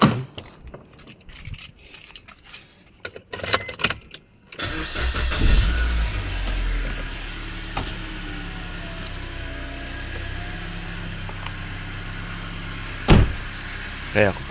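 A car is started in the early morning hours after keys jingle and doors clunk; the engine cranks and catches, then settles into a steady idle, with a brief thump later.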